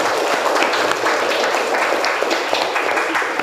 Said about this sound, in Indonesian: Tepuk tangan untuk kita semua dulu